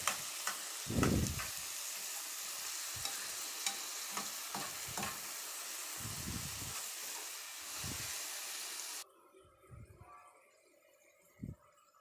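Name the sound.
stirring tomatoes with meat and vegetables in a frying pan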